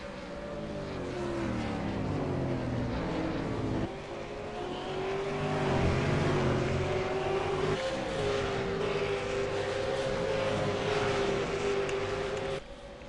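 V8 Supercars race cars circle the track at Montreal, their engines droning loudly and steadily with rising and falling pitch as the cars accelerate and pass, and no voices over them.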